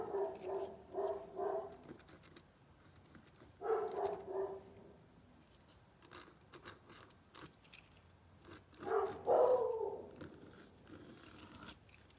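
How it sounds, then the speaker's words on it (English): A dog barks in three separate bursts, each a short cluster of rough, mid-pitched barks at moderate distance, with quiet room tone between them and no talking. "We never hear him bark like that."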